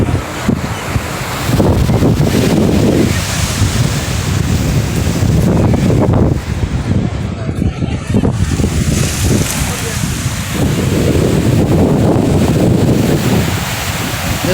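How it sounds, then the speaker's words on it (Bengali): Sea waves surge and break at Digha beach, with steady wind buffeting the microphone; the surf swells loudly in repeated washes, and voices are heard speaking over it. "ঢেউ আসতে দেখতে পাচ্ছি পুরোটা।"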